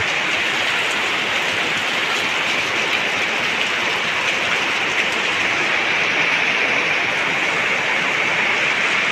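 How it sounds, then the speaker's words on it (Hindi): Heavy rain pours down steadily and loudly for the whole stretch, a dense unbroken hiss with no voices over it. "प्रचुर परिमाण में वर्षा होती आप देखिपे"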